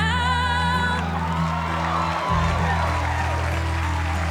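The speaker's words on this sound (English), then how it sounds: "Everybody stand up, everybody start screaming so you can't hear it." A loud audience roars and cheers on America's Got Talent, a continuous swell of crowd noise mixed with music and a sustained sung tone from a young girl performer.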